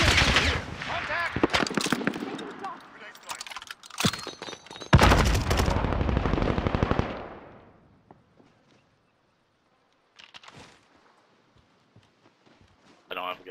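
Automatic and single-shot gunfire from a shooter game, loud and dense for the first seven seconds, mixed with voices calling out, then fading to near silence before a brief burst of distant shots near the end.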